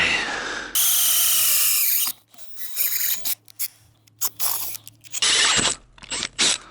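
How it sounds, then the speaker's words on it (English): A Starrett hole saw bores through thick-walled 2-inch poly pipe, giving a loud grinding drill whine that starts and stops in several bursts of cutting. "Can't beat a good set of Starrett hole saws."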